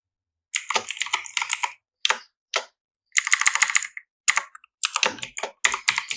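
Typing on a computer keyboard, close and clear, with bursts of rapid key clicks separated by short pauses and no voices.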